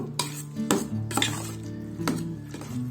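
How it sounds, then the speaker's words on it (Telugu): A spoon scrapes and clinks against a metal pot while cooked rice is mixed with salt and water, giving several distinct stirring strokes up close with no talking. "కొద్దిగా వాటర్ వేసుకుంటున్నా."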